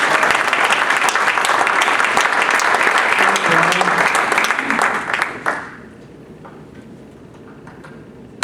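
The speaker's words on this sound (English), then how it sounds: "I'd like to give him a round of applause for bringing me to do this show." Audience applause at a live music show, a dense wash of many hands clapping steadily for about five seconds before cutting off into near-silence.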